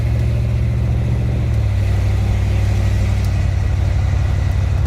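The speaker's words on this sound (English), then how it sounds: "Hope you can hear it on the video, but we're going to try to get a grasp of it too, is the sound of the exhaust" A 1966 Cadillac DeVille exhaust rumbles steadily in a deep, continuous low drone, close and loud, with a slight shift in tone partway through as the engine idles and revs gently; no one speaks.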